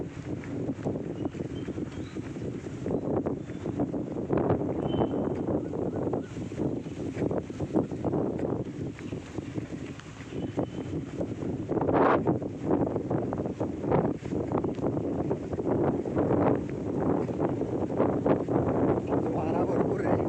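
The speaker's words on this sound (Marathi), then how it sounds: "वारा भरपूर आहे." Strong wind gusts steadily outdoors during a run, buffeting the microphone with a loud, continuous rumbling roar that swells and eases for the whole stretch.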